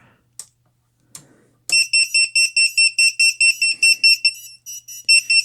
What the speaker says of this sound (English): And then here's the beeper.